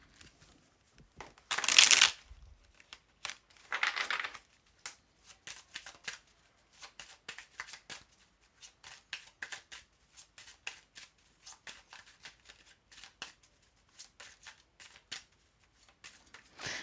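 Oracle cards are shuffled by hand: two louder riffling bursts come early, then a long run of soft, quick flicks and taps of the cards in a quiet room.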